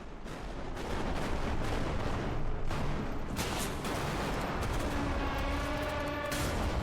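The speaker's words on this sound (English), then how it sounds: "When Bodycam first launched to early access, one thing players immediately loved were the gunshots" Gunshots in the game Bodycam go off as a steady run of rapid, sharp reports. They sound like a sustained burst of automatic fire with echoing tails, loud and dense throughout.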